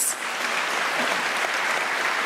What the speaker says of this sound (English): May we give Prof. Tabane a round of applause?